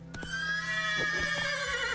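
Roach, a horse in The Witcher 3, lets out a clear whinny that rises and falls over a couple of seconds, with a few soft hoof clops underneath and no voices.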